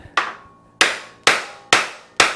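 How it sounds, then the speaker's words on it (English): Five sharp metallic hammer taps on a part of a Kawasaki KDX motorcycle, evenly spaced and close, each ringing briefly before the next strike. "Try to tap it back in."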